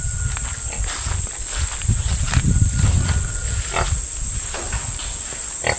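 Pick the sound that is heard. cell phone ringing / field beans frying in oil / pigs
pigs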